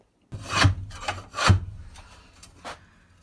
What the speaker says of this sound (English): Ripping the floor out.